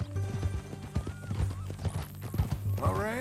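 Horse in the Red Dead Redemption 2 video game, hooves clip-clopping in a steady rhythm with a loud whinny near the end, heard over low game music and ambience.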